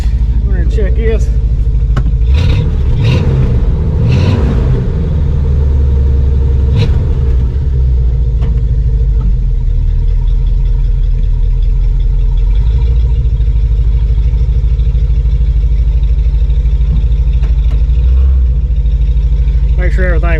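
A car engine fitted with an Evil Energy performance carburetor idles steadily with a loud low rumble, a few revving bumps early on, and a voice talking over it.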